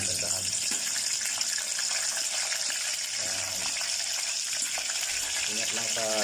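Steady, dense sizzle of chicken frying in hot oil, loud and continuous throughout, with brief bubbling bursts and faint voices underneath.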